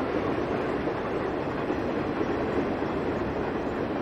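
Simulated train rolling by in Train Simulator 2016 on the Naperville line, a steady close rumble of railcars with faint clickety-clack and no pauses, heard alone without talk.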